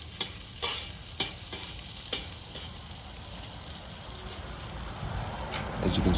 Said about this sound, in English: we're noticing there's some sauteing and sizzling going on in one spot but not in the other